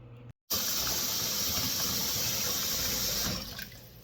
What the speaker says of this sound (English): So I just fill my sink with cold water.